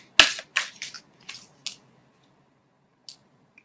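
Tarot cards are shuffled by hand in a few quick, crisp riffling snaps, close and moderately quiet, with short gaps between them and a last faint flick after a pause.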